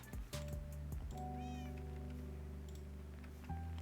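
Minecraft cats let out several drawn-out meows, some overlapping, set against a steady background tone, with no one talking.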